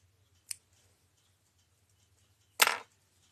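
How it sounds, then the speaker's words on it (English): Scissors snip off a crochet yarn tail: a small faint click, then a sharper, louder cutting snip about two seconds later, close up in an otherwise quiet room. "I'm going to cut that tail off"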